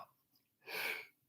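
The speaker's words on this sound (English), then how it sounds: "hang on, I'm going to sneeze" A single sneeze bursts out mid-conversation on a podcast, a loud broadband blast lasting under half a second after a brief quiet intake.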